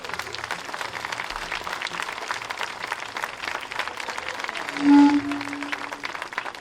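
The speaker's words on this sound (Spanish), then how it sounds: "Pido ya de mano un aplauso para ellos" Audience applause for the Castrillón bagpipe band at a bagpipe band gathering, a steady, moderately loud spread of clapping from many hands, with a short tonal hum rising briefly near the end.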